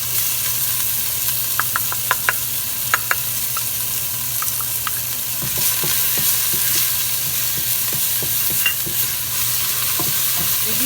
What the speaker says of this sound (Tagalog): Lulutuin po muna natin itong ating bawang at sibuyas.